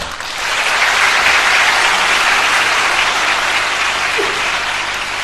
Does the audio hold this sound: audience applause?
yes